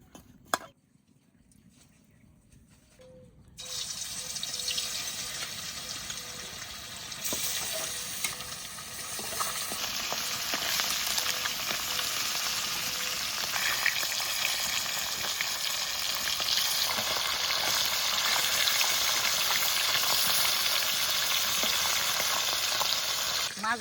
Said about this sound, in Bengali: এবার ভেজে নেবো ফলই মাছ